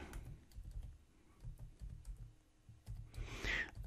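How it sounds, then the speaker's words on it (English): Fingers type on a computer keyboard with quick, light clicking keystrokes in short bursts, quiet and close, with no talking. "you type your affiliate link in here."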